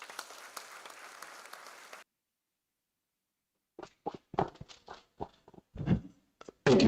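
An audience at an engineering school's annual conference opening session applauds briefly, a soft, even patter lasting about two seconds before cutting to silence, followed by scattered sharp, uneven sounds.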